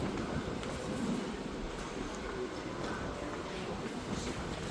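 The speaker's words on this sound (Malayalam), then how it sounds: "അടുത്ത ട്രെയിൻ ഇപ്പുറത്തുകൂടി പോകും." An Osaka metro train passes through a station, a steady broadband rumble and rushing roar that stays loud and even for the whole stretch, with no clear talking.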